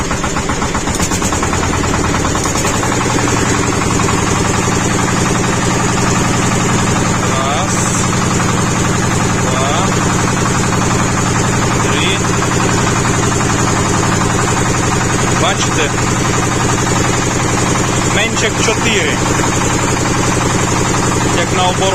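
A diesel engine runs loud and steady just after a fuel injection pump was fitted, holding a rough, knocking idle with a slight rise in revs and no break in its drone.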